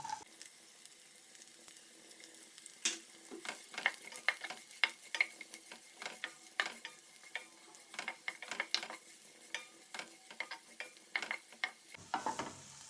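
Chopped onion fries gently in a pan until turning transparent: a quiet, low sizzle under frequent light spatula clicks and taps scattered across the clip, ending with a brief shift in tone.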